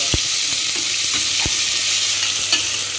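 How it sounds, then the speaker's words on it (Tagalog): Garlic sizzles steadily in hot oil in a home kitchen pan, a dense continuous frying hiss with a few soft stirring knocks and scrapes scattered through. "mainit na yung oil. Ilagay ko muna yung bawang. Ayan, ipa-brown lang natin ha."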